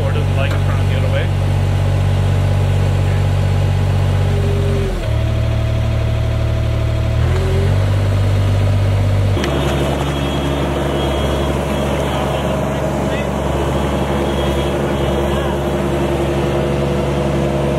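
A Himac slasher motor mounted on a Manitou 1050RT telehandler runs with a steady, loud engine drone throughout, its pitch dipping briefly mid-way before settling into a rougher, denser hum; a person talks over it.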